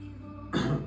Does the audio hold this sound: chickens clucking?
no